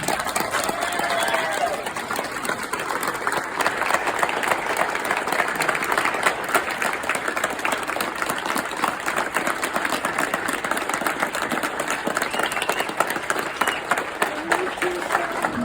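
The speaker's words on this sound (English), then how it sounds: "So please give the applause to my wife, Karen." Audience applause at the 2021 CAC Courage Award ceremony, a dense sustained clapping wash lasting the whole stretch, loud and steady, with some crowd noise and voices mixed in.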